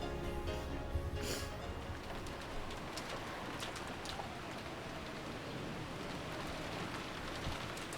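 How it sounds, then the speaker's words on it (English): Rain and wind in the visual novel Umineko When They Cry, a dense, even hiss of falling rain with faint bird-like coos and scattered drop ticks, heard alone without speech. "The unsettling sound of the wind had now blended with the sound of rain"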